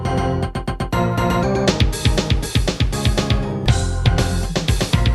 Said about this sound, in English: someone took all the sounds from Super Mario 64 and made Smells Like Teen Spirit